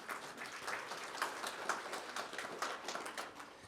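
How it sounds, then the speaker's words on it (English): A conference audience gives a faint, distant round of steady clapping that continues evenly for a few seconds without talk. "So I'd like to give a round of applause for all of you"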